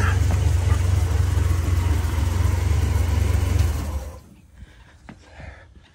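Buick 225 V6 in a 1948 Jeep CJ2A runs loud and close at a steady, rumbling idle for about four seconds, then cuts off, leaving quiet with a few small clicks and knocks.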